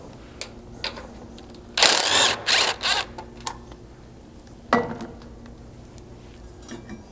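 Removing a bolt ahead of the rear control arm mount while fitting Blitz rock sliders to a Lexus LX 570: a cluster of loud metallic clanks and ratcheting bursts, then a shorter knock later, with faint clicks between.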